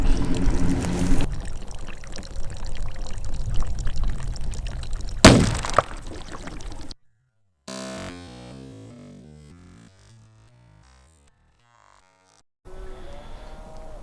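Water pours and splashes out of a leaking bullet recovery barrel at a rifle range, a steady close gush with a sharp knock partway through, then it tapers off into quieter trickling and dripping.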